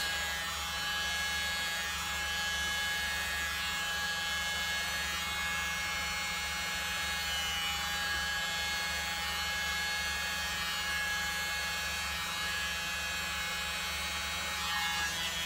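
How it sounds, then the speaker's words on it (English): A steady electric air blower hums and hisses continuously at close range as it pushes acrylic paint across a cell activator during a pour, with an unchanging buzzing tone and no talking. "we're just going to blow from this side of the cell activator"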